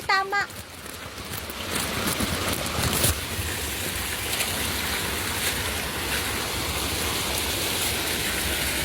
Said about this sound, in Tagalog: Ulan kasi